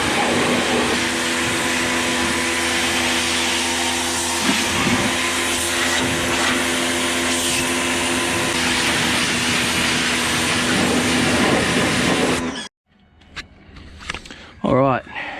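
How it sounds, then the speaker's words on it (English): A pressure washer blasts the grimy, degreased underbody of a VL Commodore being built with an LS1 engine, giving a loud, steady hiss and roar for about twelve seconds before cutting off abruptly, followed by faint handling noises. "let's just get the pressure washer now and give it a hit"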